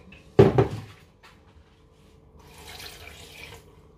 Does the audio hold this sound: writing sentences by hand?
no